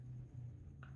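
Quiet, brief scratching of pen or pencil on paper during a math lesson, faint against a low room hum, with no talk.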